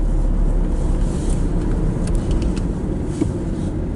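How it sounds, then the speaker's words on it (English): Steady broadband road rumble from inside a car driving on country roads in France between small towns, loud and continuous with no talk. "It's going to take a little while to drive back to Azay-le-Ferron."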